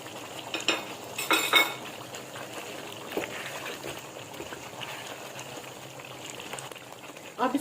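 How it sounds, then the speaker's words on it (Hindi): A spoon stirs almond, coconut and sesame powder into chicken karahi in a pot, making soft scrapes and light metallic clinks, with a brief cluster of louder strokes near the start and no talking. "ये मैं इसके अंदर ऐड करूंगी और इसको अच्छा सा मैं मिक्स करूंगी"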